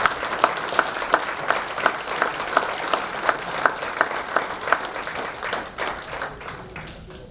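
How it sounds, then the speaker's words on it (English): Applause at a university athletics hall of fame ceremony, a crowd clapping in a fairly regular rhythm at moderate distance, thinning and tapering off toward the end. "How about a round of applause?"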